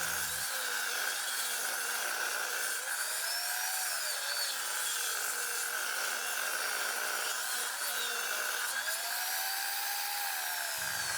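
A table saw with its blade tilted to 45 degrees rips 4.5-inch boards lengthwise, producing a steady, fairly faint whirring whine with a hissing cutting noise that swells slightly as wood passes through.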